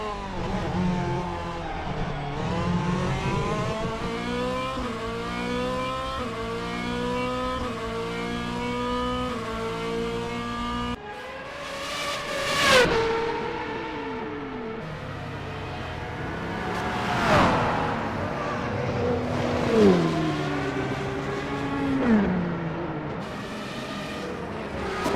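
A Porsche 963 prototype race car in a racing game screams through rising and falling gear changes on a street circuit at Long Beach, a steady onboard engine note with sharp upshifts and downshift blips, no talk.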